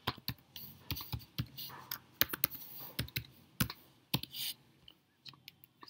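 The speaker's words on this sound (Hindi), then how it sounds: "यहाँ पे हम अपना पैन कार्ड नंबर डाल के यहाँ पे पासवर्ड डालेंगे" Fingers type a PAN card number and password on a computer keyboard in sharp, uneven bursts of close clicks and key taps, with short pauses between runs of keystrokes.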